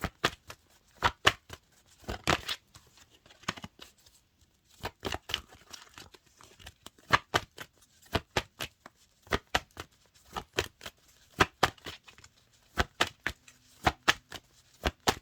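Tarot cards are shuffled and handled at a reading, a long run of crisp, sharp flicks and slaps in uneven bursts, close and alone without speech.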